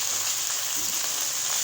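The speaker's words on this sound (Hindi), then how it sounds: "तकरीबन हम इसे 5 मिनट तक फ्राई करेंगे" Chicken pieces frying in a pot for chicken pulao, a steady, close hiss and sizzle of hot oil with no pauses and no talk.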